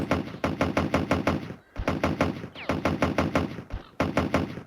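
Rapid bursts of automatic gunfire from the video game S.T.A.L.K.E.R.: Picnic in the Oblivion, loud, steady rattling volleys broken by two brief pauses with dull thumps between them.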